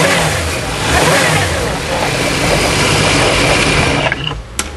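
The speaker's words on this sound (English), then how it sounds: "This time we will rev it up just a little bit" A personal watercraft engine revving steadily at a fairly high pitch during winterizing, loud and close, holding for several seconds before cutting back near the end.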